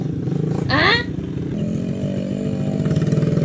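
A motorcycle engine revving among hauler riders in Davao Oriental, Philippines, a loud, close, rising whine with a sharp rev burst and a steady rumbling idle afterward.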